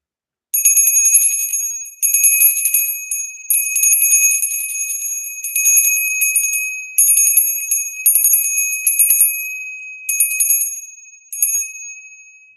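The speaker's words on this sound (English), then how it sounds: "now I'm going to ring the bell" A bell rung during a frequency healing session, sounding as a series of about nine bright, high metallic strikes in an uneven rhythm, each ringing briefly and close with no talking.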